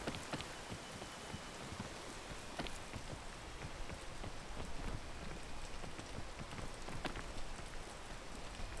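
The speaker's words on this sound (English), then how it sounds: "Now, if only the rain would stop." Steady rain in the video game Peak, a dense, even hiss of falling drops with scattered louder spatters on surfaces, continuous throughout with no voices.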